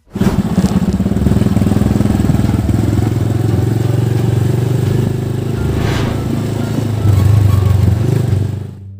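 A motorcycle carries its rider along with a loud, steady engine drone close by, the pitch holding mostly even before swelling briefly near the end and then cutting off. No one speaks.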